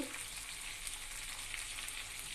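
Mung dal tipped into hot oil alongside a fried hilsa fish head hisses in a steady, dense sizzle that holds evenly throughout, fairly quiet with no voices.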